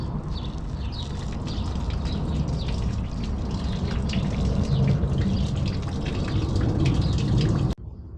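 Hot water poured over a corroded car part, a steady splashing, trickling stream close by that runs continuously for several seconds before cutting off abruptly near the end.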